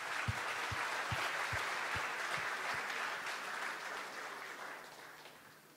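Applause from an audience at an engineering team event, dense clapping that starts fairly strong with a few low thumps early on and gradually fades away.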